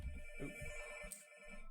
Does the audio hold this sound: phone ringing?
yes